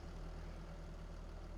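A tractor engine idles in Farming Simulator 25, a steady low rumble with an even pulsing beat, continuous and close, with no talking.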